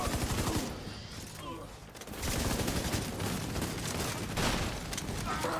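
Automatic turret gunfire in a video game, rapid sustained bursts of shots running almost the whole stretch, briefly easing before a dense volley resumes, loud against a busy game soundscape.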